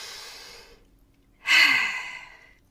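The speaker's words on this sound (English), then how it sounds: "So take a deep breath in." A slow, soft exhale fades into silence, then a sharp, close deep breath in draws through the nose and mouth before trailing off.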